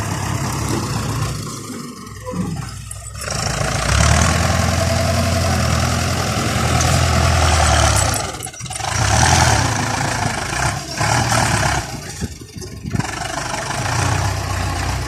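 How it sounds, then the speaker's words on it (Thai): A two-axle Ford 6610 tractor working a rice paddy runs loud and close, its engine droning steadily with a few brief dips and surges. "ยอมรับนี่ฟอร์ดเสียงเขาสะใจมากครับ"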